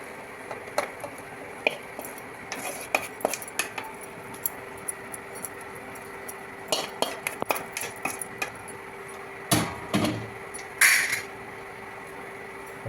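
A spoon mixes prawn masala for backwater prawn biryani in a pot, bursts of metallic clinks and scrapes against the vessel at close range over quiet room tone, with louder clattering near the end and no speech.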